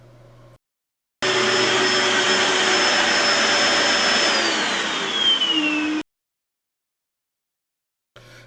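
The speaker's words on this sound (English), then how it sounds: "a noisy vacuum cleaner will typically generate sound levels between 70 and 80" A noisy vacuum cleaner runs loud and steady for about five seconds with a high whine, its pitch sliding down near the end before it cuts off abruptly, leaving near silence.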